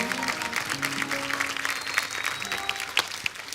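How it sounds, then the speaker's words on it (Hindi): Studio audience applause at a comedy talk show set, a steady dense clapping throughout, with some background music tones underneath. "जोरदार ताली एक बार फिर से"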